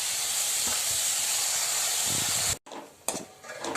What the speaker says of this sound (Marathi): छान परतून घ्यायचं आणि वरून ही धुतलेली मे मेथीची भाजी टाकून द्यायची